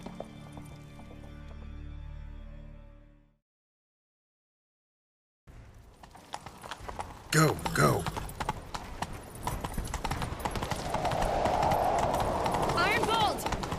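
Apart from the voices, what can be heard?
horses galloping in video game The Witcher 3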